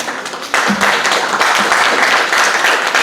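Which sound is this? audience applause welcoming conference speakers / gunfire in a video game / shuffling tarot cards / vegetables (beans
audience applause welcoming conference speakers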